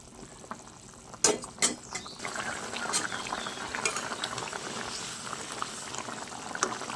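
Paneer curry gravy bubbles at a steady boil in a pan, a soft continuous simmer broken by a few sharp metallic clinks of a spoon near the start.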